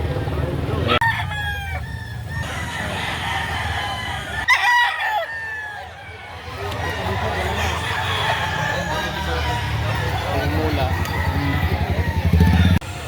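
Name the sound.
chickens clucking and rooster crowing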